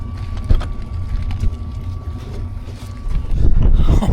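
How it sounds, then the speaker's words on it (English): Strong gusts of a winter wind storm batter a teardrop camper on Antelope Island, a loud buffeting roar that swells and fades, with thumps and a faint hum, growing stronger toward the end. "It's really windy."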